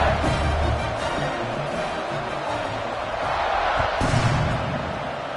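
Football stadium crowd waiting for the kickoff, a steady broad roar of many voices with a swell of cheering toward the end, heard alone and fairly distant.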